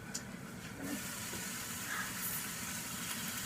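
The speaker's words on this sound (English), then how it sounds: "Hear that chicken sizzling." Chicken pieces frying in a pan at home, a steady, fairly faint hissing sizzle that holds evenly throughout without any talk.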